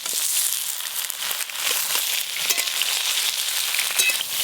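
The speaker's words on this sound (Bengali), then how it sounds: "এবার কেটে ধুয়ে রাখা ঝিঙেগুলো দিয়ে দেব।" Ridge gourd pieces and green chillies dropped into hot oil tempered with black cumin, frying with a loud, crackling sizzle that spits and pops continuously up close.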